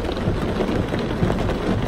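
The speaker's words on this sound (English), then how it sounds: "Sheets of rain, man." Heavy rain pours down in a rainstorm, a dense and continuous loud hiss of drops close by with a low rumble underneath, and no voices.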